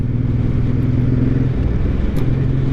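A 2023 Suzuki Boulevard M109R B.O.S.S. cruiser motorcycle on a test ride, its big engine giving a loud, steady low rumble close to the rider with a slight shift in pitch near the end.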